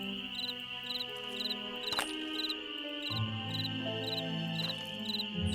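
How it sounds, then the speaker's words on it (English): Steady rhythmic insect chirping pulses over a droning synthetic background with low tones, continuous throughout, in the video game Nancy Drew: Ghost Dogs of Moon Lake. "Ah, there's that chirping sound."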